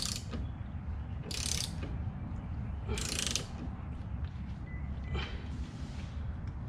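Ratcheting clicks from a wrench tightening a bolt on a drift car's suspension, two louder bursts of rapid clicks over a steady rumbling garage background.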